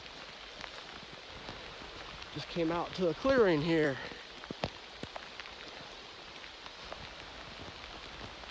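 Steady rain patters all around on the Appalachian Trail near Great Barrington, Massachusetts, with scattered individual drops tapping nearby, while someone speaks briefly in the middle.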